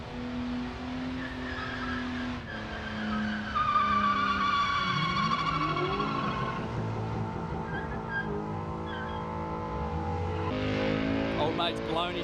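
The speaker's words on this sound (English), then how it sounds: "So enjoy this skid here when it starts." A Ford car does a burnout at a smokefest event: tires squeal and an engine revs hard, tonal screeches rising and falling, heard from a distance amid crowd noise and voices.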